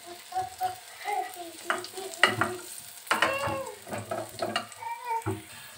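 Onions frying in oil in a pan while a rohu fish dish is cooked, a soft sizzle with stirring and scraping clatter, and brief voice-like sounds over it.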